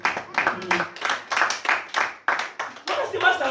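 A church congregation claps in praise to the Lord, a steady rhythmic beat of many hands with a few voices mixed in, fairly close and lively.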